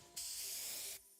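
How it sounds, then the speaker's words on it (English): A can of Fluffy Tail Hairspray gives one steady, loud hissing spray of about a second, with a sharp start and stop and no voices. "Nanali, what are you spraying?"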